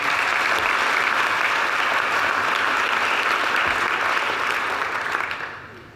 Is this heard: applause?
yes